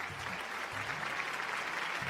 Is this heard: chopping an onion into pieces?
no